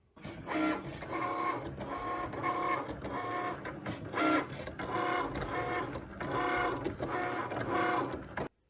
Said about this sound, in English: I'm going to print these out of adhesive vinyl using the Cricut machine